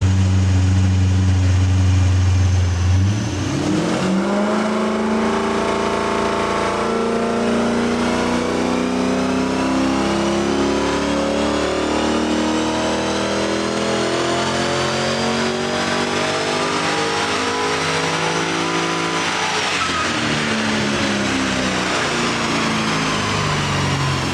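An LS1 V8 with an aftermarket cam and automatic transmission revs hard on a dyno, climbing from a low idle into a loud sustained high-rpm pull that holds, then sweeps back down near the end.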